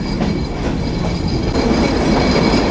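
A train runs on an old railway in Bangladesh near Jhikargachha station on the Benapole to Dhaka route, a loud continuous rumble with rattling carriages and a faint high wheel squeal, heard close from on board.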